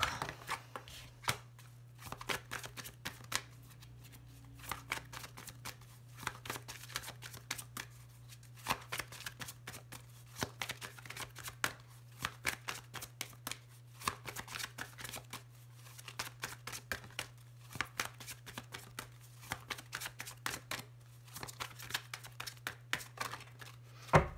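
A deck of tarot cards being shuffled and cut at close range: repeated soft riffling and slapping bursts in a quick, steady rhythm over a low background hum, with no talking.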